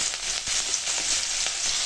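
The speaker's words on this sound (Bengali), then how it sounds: "ওই মাছ ভাজার তেলে দিয়ে দেবো পেঁয়াজ" Chopped onion sizzles steadily in hot oil left from frying fish, a close, continuous hiss with faint crackles throughout.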